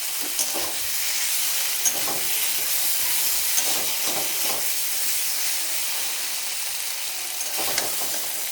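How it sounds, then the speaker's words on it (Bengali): Water poured into a pan of hot frying spices sends up a steady, loud hiss of steam and sizzle, with faint scraping stirs scattered throughout and no voices. "এখন এটাতে জল ঢেলে দেবো।"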